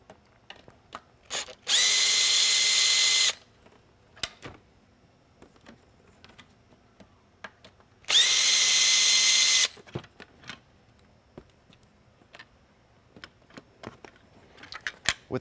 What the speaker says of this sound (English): I'll go ahead and remove the two Torx head screws.